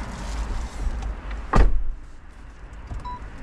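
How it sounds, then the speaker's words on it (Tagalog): A Jetour X90 Plus door swings shut with one solid thud in a quiet cabin, followed by a faint hum and a soft chime. "Sarado natin pinto, maingay."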